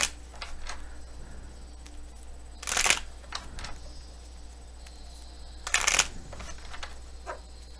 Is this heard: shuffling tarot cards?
yes